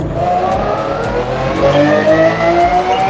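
Race car engine in Forza Motorsport gameplay, a loud continuous whine with the pitch climbing and stepping as the car downshifts, alone without talk.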